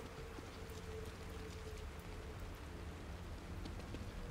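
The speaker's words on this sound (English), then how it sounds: "Rain is gonna wash away any evidence." Steady rain in the horror video game The Evil Within, a dense, even patter of drops that holds constant at a moderate level with no talk over it.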